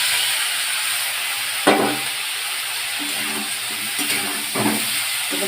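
Chopped vegetables hiss and sizzle in a hot pan while cooking fig chicken, a steady broadband fry with a few louder bursts as the pieces hit the oil, close and continuous with no talk.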